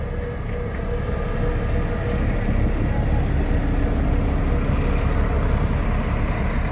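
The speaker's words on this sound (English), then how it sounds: "Bus number 7 rolling out." A coach bus pulls away from a camp, its engine a low steady rumble that stays fairly loud and continuous throughout.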